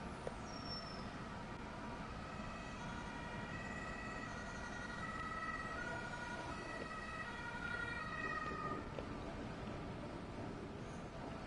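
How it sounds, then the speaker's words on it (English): Faint wailing sirens rise and fall in the distance over a steady low train engine rumble in the Train Sim World 5 game, freight operations at Bremen-Oldenburg, continuing for several seconds. "It's funny how you actually hear sirens in the background."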